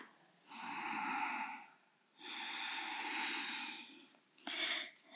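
Slow, deep breaths during a power yoga flow: two long, steady airy exhalation-like rushes, each lasting over a second, then a shorter sharper breath at the end, close and moderately loud with no talking.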